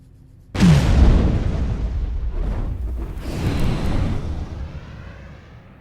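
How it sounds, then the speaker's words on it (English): A breaching charge detonating in an animated military sci-fi scene, one loud, sudden blast that rolls into a long rumbling roar and then swells again briefly before fading, with no talking. "They just set a breaching charge, by the way."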